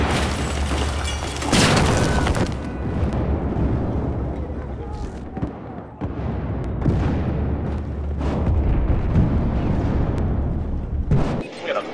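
Mortar explosions in the Battlefield 4 video game, Operation Locker map, thud as loud, dense booms over a constant roar of battle noise, with a big blast near two seconds and more rumbling impacts through the rest.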